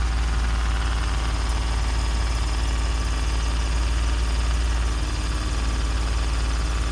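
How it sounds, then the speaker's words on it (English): A 2017 Ford F-150 idles with exhaust escaping from a rusted, leaking muffler, giving a steady low rumble with a faint rapid puffing flutter, close and constant throughout with no talking. "exhaust coming out of a rusted muffler"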